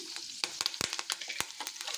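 Curry leaves hit hot oil with mustard seeds, chana dal, urad dal and cumin for tempering, bursting into sharp, irregular crackles and pops over a faint sizzle, close and fairly quiet.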